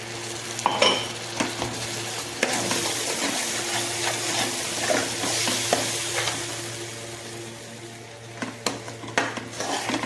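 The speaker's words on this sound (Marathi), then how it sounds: "आता आपण घालणार आहोत त्याच्यामध्ये टमाटर." Mutton curry frying in a pan as chopped tomatoes go in, with a steady sizzle under repeated stirring and scraping of a utensil against the pot, fairly close and continuous.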